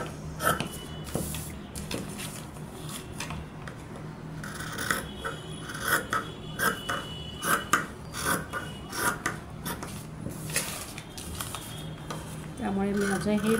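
Scissors cut through fabric for a baby's zabla, a loose cotton tunic, producing repeated close crisp snips and rasping slides over a tabletop, with a few light clinks and a louder rustle of cloth near the end.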